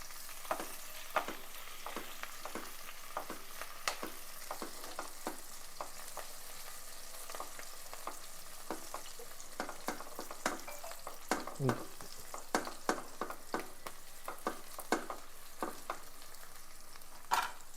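Onions fry in a pan until golden, a quiet continuous sizzle broken by regular scraping clicks of a stirring spoon, for prawn pulao.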